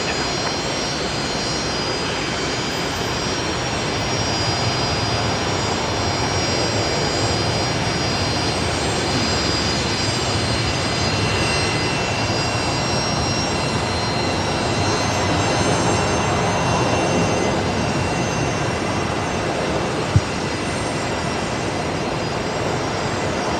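A Qantas jet airliner roars down the runway on its takeoff roll at Brisbane Airport, a loud, sustained engine rumble heard from a distance that holds steady throughout.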